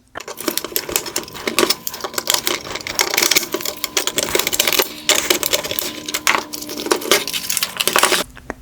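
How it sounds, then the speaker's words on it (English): Plastic wire harness clips popped off a 2018-2020 Range Rover Velar OEM LED headlight during disassembly, giving a close, busy run of sharp clicks, snaps and plastic rattles across the whole stretch, with no talking. "Next, I'll pop off the wire harness clips."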